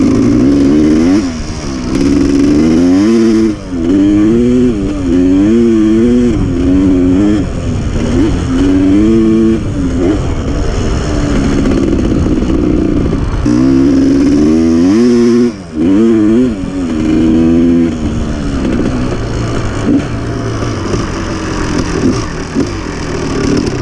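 A 2001 Suzuki RM250 dirt bike engine runs loud and close, idling with a rough two-stroke burble and repeatedly blipping into sharp revs that rise and fall throughout.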